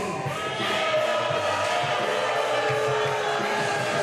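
Wrestling crowd at a hybrid wrestling event, a steady wash of arena noise with scattered shouts and jeers, fairly loud and continuous.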